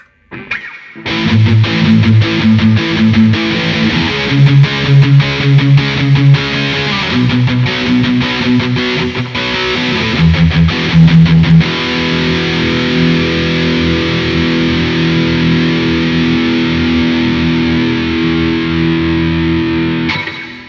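A 2016 Epiphone Les Paul Custom Pro electric guitar played through distortion, with choppy chords and riffs early on giving way to long sustained, heavily saturated notes, loud and upfront with no talking.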